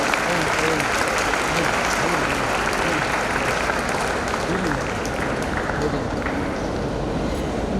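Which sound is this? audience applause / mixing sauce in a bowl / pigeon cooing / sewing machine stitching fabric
audience applause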